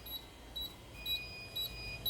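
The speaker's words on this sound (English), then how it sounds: "as we can see at the annunciator, we have the donor antenna alarm" A fire alarm panel sounds a steady repeating electronic beep for a donor antenna alarm, short high chirps recurring about every half second, faint under a low room hum.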